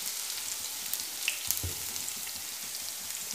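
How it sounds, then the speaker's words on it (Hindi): Onions and a little cumin sizzle steadily in a hot pan with oil, a bright continuous frying hiss close up, with a brief clatter near the middle as they go in. "अब हम इसी में ही वो सब्ज़ वाले ऑनियन डाल देते हैं, साथ ही थोड़ा सा ज़ीरा भी डाल देते हैं।"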